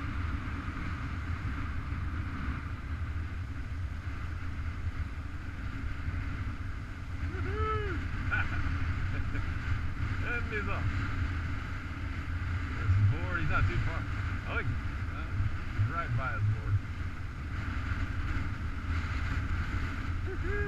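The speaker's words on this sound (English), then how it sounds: "That's the wind right there." Wind blowing across Kentucky Lake while boating, a steady low rumble and buffeting against the microphone, mixed with engine drone, with people talking over it.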